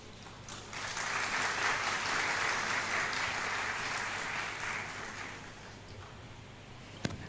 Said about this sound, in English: Let's give Senior Counsel Dr. Fred Ojambo another round of applause.